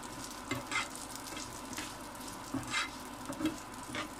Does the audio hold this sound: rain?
no